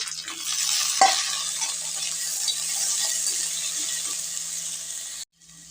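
Potatoes fry with onion and tomato in a pan, giving a steady, close sizzle with a brief clatter of stirring near the start, before the sound cuts out just before the end.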